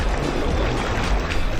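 A BYD Yangwang U8 SUV turns while floating in water, giving a dense, continuous churning and sloshing wash of water with a low rumble underneath.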